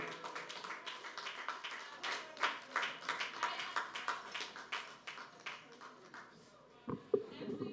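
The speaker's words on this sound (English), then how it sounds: "So I want you to welcome with a rousing round of applause Chairman Mr. Gerald Lee Innes to the podium." An audience at a sports games ceremony gives a round of applause to welcome a chairman to the podium: a soft, steady patter of many hands clapping at a distance, fading and ending near the close.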